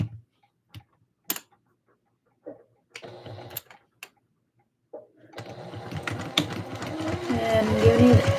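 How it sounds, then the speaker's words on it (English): A sewing machine top-stitches a Christmas dress. Scattered clicks and handling knocks come first, then the motor starts and whirs continuously, growing louder toward the end, close by. "doing the top stitch on the other side"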